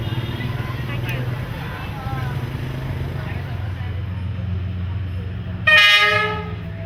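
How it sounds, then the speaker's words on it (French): A train in northern Vietnam rumbles steadily nearby, then a loud horn blast sounds near the end and fades. "Le balai des trains se met en place dès le matin."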